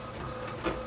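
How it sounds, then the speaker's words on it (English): An HP DeskJet 1000 inkjet printer prints with a continuous whirring, rushing mechanical drone, fairly steady and close, with a brief louder swell near the end. "So the printer's printing right now, and using the HP one I just bought, and the DeskJet 1000 for the print"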